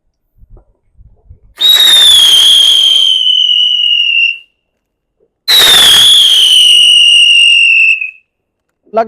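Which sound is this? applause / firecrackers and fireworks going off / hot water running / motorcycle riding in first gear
firecrackers and fireworks going off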